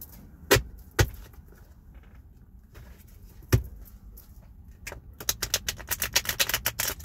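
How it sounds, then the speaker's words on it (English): A deck of tarot cards is handled and shuffled, with a few sharp taps and then a fast run of crisp, rhythmic riffling clicks, close and alone. "I'm finna shuffle these up"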